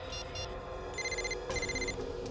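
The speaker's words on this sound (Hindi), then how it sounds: "फोन कहां बज रहा है? ड्रॉर चेक करो। यही बज रहा है।" A mobile phone rings from inside a drawer with short repeated electronic tone bursts over a steady low background hum, no voices.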